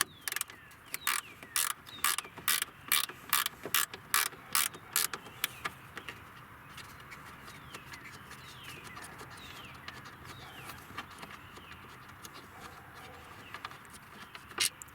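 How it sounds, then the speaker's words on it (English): Ratcheting wrench clicking in quick bursts while turning bolts on an Infiniti M56 VK56VD engine during cooling fan module replacement, about ten sharp ticks over the first six seconds, then quieter background with faint bird chirps. "I'm going to use my ratcheting wrench."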